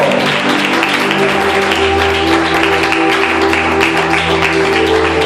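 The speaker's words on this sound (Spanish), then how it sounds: "Dale fuerte el aplauso al Señor" Church congregation clapping steadily together during a worship service, a dense sustained wash of applause with a low musical hum beneath, no talking.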